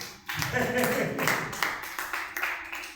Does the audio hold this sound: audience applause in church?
yes